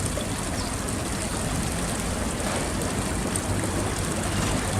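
Steady flowing water at the Hector Pieterson memorial, a continuous close rush and trickle filling the whole stretch with no break or voices.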